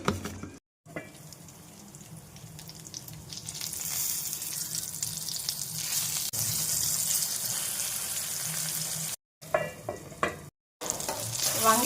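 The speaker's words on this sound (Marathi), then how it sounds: "वांग्याचे काप छान फ्राय झालेले आहे" Eggplant slices fry in oil in a pan with a steady close sizzle. Two short breaks of silence cut into it, and a few louder bursts follow near the end.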